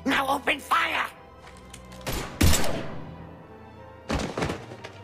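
Gunfire in Mass Effect 3 comes as a few heavy thumping shots and bursts, spaced apart, with voices talking before and between them.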